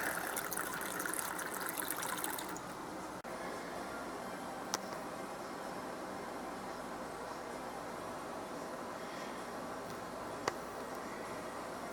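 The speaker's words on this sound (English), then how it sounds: "pour some water in here." Water pours steadily from a tap into a container, a continuous broadband rush that is louder for the first couple of seconds and then settles into a softer, even flow, with a couple of faint clicks.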